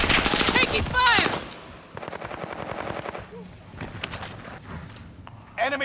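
Rapid automatic weapon fire from Call of Duty: Modern Warfare rattles in several bursts alongside scattered single shots, mixed under game voice chatter and radio callouts.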